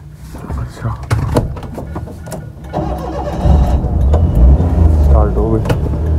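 A car that had broken down cranks and its engine catches, settling into a rough, loud idle as someone talks over it.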